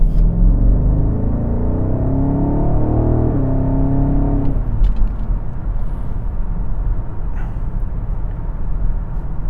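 A BMW X5 SUV accelerates from inside the cabin, its engine note rising in pitch under heavy low road rumble, then settling into a steady loud drone as speed builds.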